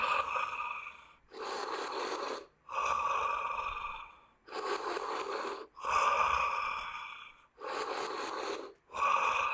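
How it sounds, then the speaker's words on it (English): Deep, forceful breaths in a rhythmic breathing exercise, each long airy inhale and exhale close and loud, repeating about seven times with short pauses between, no talking. "Building the intensity together. Last 5 breaths."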